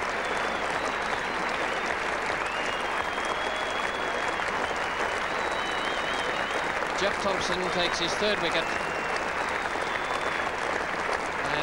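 Cricket spectators and players give a long, standing ovation to Alan Knott at Trent Bridge during a 1977 England v Australia Test, with dense, continuous clapping filling the ground while a commentator talks over it.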